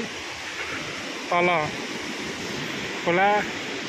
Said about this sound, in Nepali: पारिपट्टि झरना यस्तो राम्रो छ हेर्नु होला झरना पारिपट्टि